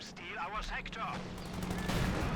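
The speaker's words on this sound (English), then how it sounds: "Cannon fires through the smoke, hitting the Sherman." Tank cannon fire hitting a Sherman tank in the Company of Heroes 2 video game, with booming shots and rumbling battle noise heard under a commentator talking.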